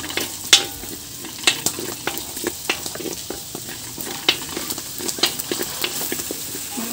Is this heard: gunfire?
no